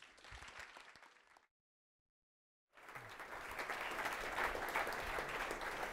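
Live audience applause greeting Scott Tolinski and Wes Bos at a Syntax FM live show, dense clapping and crowd noise that cuts out briefly, then returns fuller and louder, swelling toward the end.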